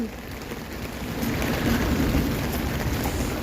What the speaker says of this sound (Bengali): কি সৌদি আরবে কি বৃষ্টি আর বৃষ্টি